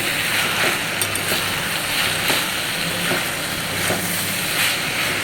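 Snake gourd fries in a pan on a home stove, a steady loud sizzling hiss that fills the whole stretch with faint periodic crackles, no talk.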